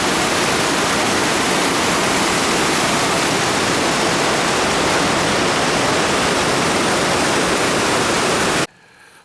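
Mountain stream in the Vanoise, Tarentaise, rushing loudly and steadily over big stones at a ford where the bridge was removed, close and constant before cutting off abruptly near the end.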